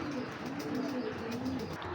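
Large aluminium silver breed pigeons cooing inside a cage, a low rolling coo repeated in a steady warble, close and fairly loud with no voices.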